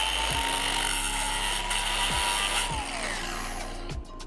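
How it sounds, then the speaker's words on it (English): An angle grinder with a cut-off wheel cuts vertically into a Subaru dipstick handle, giving a steady, loud, continuous high whine with a few brief dips in pitch as the wheel bites the workpiece. "Grab my angle grinder with a cut-off wheel."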